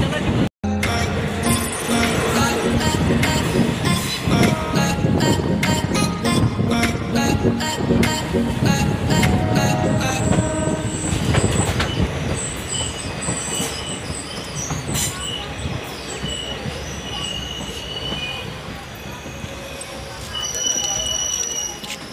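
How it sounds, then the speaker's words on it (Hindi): A passenger train on an Indian rail line near Banmankhi Junction rumbles and clacks along loudly, then slows with long, high metallic squeals of braking wheels as it comes to a stop at a station, with people talking in the background. "मेरी ट्रेन जो है अभी सुखासन कोठी में रुक चुकी है"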